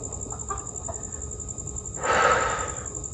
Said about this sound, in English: this chicken